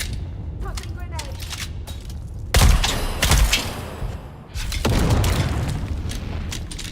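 Grenade blast in the online survival game Dune Awakening, a sudden loud boom followed by crackling debris and scattered gunfire-like bursts, with game ambience continuing around it.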